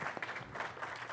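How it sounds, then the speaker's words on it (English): Audience applause at a conference talk on running Mesos in production, a brief burst of dense, steady clapping from a seated crowd, moderately close, with no voices over it. "And with that, let's give a round of applause for Alan."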